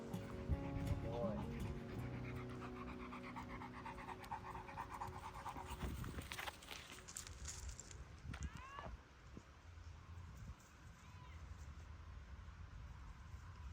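A dog pants rhythmically and steadily close by outdoors after shaking off and rolling in the dirt, with people talking over it and some rustling and bumps.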